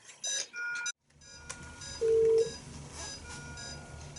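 Hospital phone bleep system sounding a series of short electronic tones while calling a medical registrar's pager, followed by a steady held beep, moderately loud and close, with faint background room noise.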